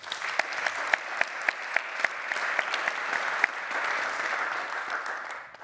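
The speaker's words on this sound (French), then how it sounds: "On peut les applaudir." Audience applause at a French conference session, steady clapping from a seated crowd with sharp individual claps standing out, sustained through and tapering slightly at the end.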